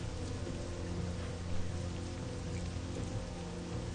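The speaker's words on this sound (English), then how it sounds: "I love the rain in this game" Rain weather effect in World of Warcraft Classic, a steady, dense hiss of rainfall with soft pattering drops that holds at an even level throughout, with no voices over it.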